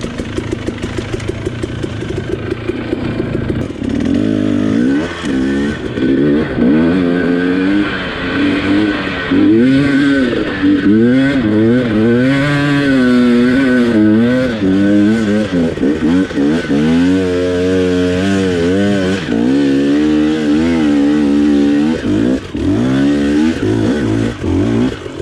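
A KTM 250XC TPI two-stroke dirt bike engine labors up a very steep hill, loud and close, its revs surging and dipping in wavering pitch sweeps as it lugs and crawls, with no voices.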